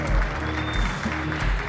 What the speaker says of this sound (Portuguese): Palmas para o Henrique, gente